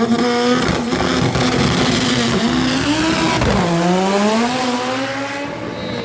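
A drag race car at a Killarney drag day accelerates hard and close, its engine note climbing steadily, then dropping sharply at a gear change before rising again.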